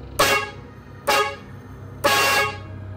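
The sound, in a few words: car horn honking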